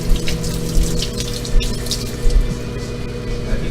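Water squirts steadily onto a potted tomato plant, a close, continuous splashing and trickling with a few brief louder spurts, no talking.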